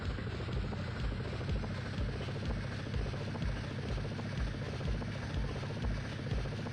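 Steady, droning helicopter rotor chop from the video game SimCopter, with even rhythmic thumps over a loud, continuous engine wash, constant in level throughout.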